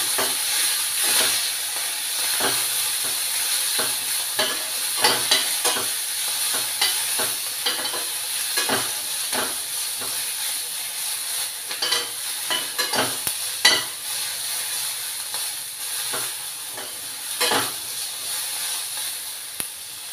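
Coriander and peanuts sizzling in a frying pan, a steady hiss of frying with repeated scraping and stirring strokes of a spatula, heard close with no talking.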